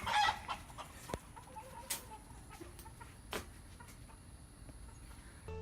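A rooster clucks and squawks nearby in scattered bursts, with a few sharp knocks and rustles in between and no talking.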